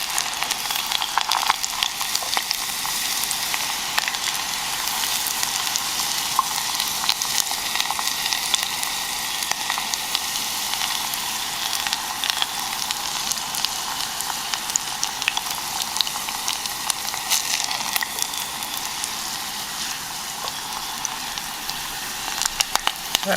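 Garlic and a bay leaf frying gently in hot olive oil, a steady, even sizzle with fine crackling pops running unbroken for over twenty seconds with no talking.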